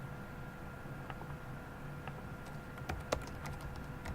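A computer keyboard is typed on at a desk, light scattered key taps that grow busier toward the end, faint against a steady background hiss.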